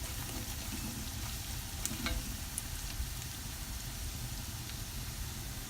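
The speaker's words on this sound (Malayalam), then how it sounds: "നന്നായിട്ടൊന്ന് വഴറ്റാം" Ginger garlic paste sautéing in a pan for an egg Mughlai, a steady close sizzle with low rumbling noise throughout and a few faint scraping stirs, no voices.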